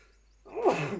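A single sneeze, close and fairly quiet, with a short sharp intake leading into the burst.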